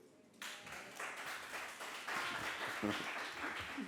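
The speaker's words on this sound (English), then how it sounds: "Please, please, please keep the applause going, ladies and gentlemen." An audience at a symposium breaks into applause, clapping swelling in after a brief quiet and staying dense and steady, with voices audible through it.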